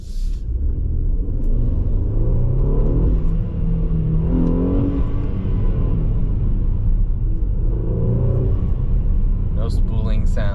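A Mercedes E400 wagon with the M276 engine and CTS turbo intakes accelerates from inside the cabin, a low, steady engine rumble and rising drone heard under a voice, with a faint hiss near the end.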